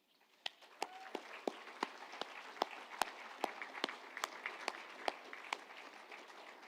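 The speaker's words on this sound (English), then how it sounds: "we owe them, I think, a big round of applause." An audience at a university graduation ceremony applauds in a thin, scattered way. The distinct claps are fairly quiet and build from near silence over a faint roomy hiss.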